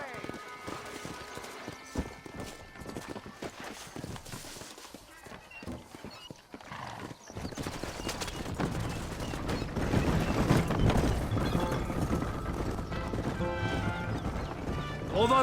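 Rhythmic clip-clop of galloping horse hooves in Red Dead Redemption, in a Mexican army setting. The hoofbeats grow louder and denser midway, with scattered gunshot-like cracks and voices talking over the ride.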